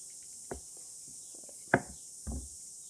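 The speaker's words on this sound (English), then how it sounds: "Cut the butter in half about there" Knife cutting through a stick of butter in a home kitchen while making caramel popcorn: three short, close knocks and taps against a cutting surface, the middle one sharpest, with quiet pauses between.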